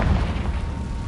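A Confringo spell blast in the Hogwarts video game, a deep heavy boom with rumbling low-end burst lasting about a second.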